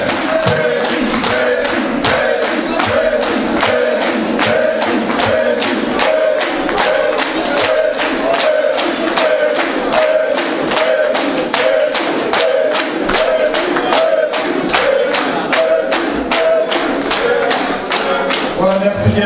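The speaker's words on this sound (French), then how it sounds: "Et on applaudit très fort," A packed hall at a presidential investiture ceremony for a New York Ivorian association bursts into loud, sustained rhythmic clapping with cheers and shouts, steady and dense throughout.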